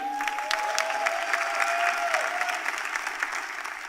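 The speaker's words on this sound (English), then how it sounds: "I know y'all are tired of clapping" Sustained applause fills a town hall meeting on education, with many hands clapping in a dense steady wash, a faint tonal whistle or feedback line running beneath it before the clapping gradually thins.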